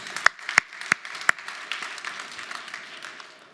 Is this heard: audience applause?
yes